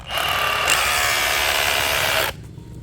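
A Bosch GBH187Li cordless brushless rotary hammer drives a 13 mm bit about 20 cm deep, giving a loud, steady high-pitched whine that runs unbroken for about two seconds before cutting off abruptly.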